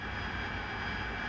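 A steady, continuous jet engine roar from an AV-8B Harrier II in the DCS flight simulator during a gentle left turn with throttle reduced, a broad even hum with no gaps, moderately loud and unbroken by speech.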